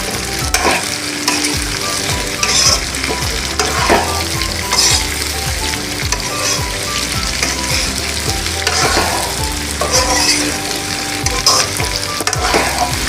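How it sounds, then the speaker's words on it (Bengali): Potatoes frying lightly in a pan with a steady, dense sizzle, occasional stirring scrapes and clinks breaking through, close and continuous throughout with no talking. "আলুগুলো আমি হালকা করে ভেজে নিব।"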